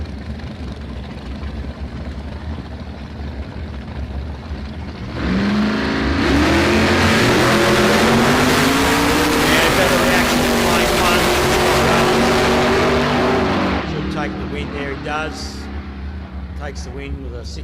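Drag race cars at a street challenge event launch and accelerate down the strip in a loud roaring burst of about eight seconds, rising in pitch before fading, while a commentator talks throughout.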